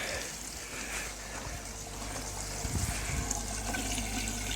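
Water drains from an IBC tank into an overflow drain, a steady quiet rush and trickle of flowing water that runs continuously at close range.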